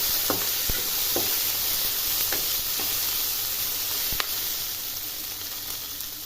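Cashew pieces fry in hot oil in a pan, a steady broad sizzle with a few sharp spoon clicks and scrapes against the metal as they are stirred.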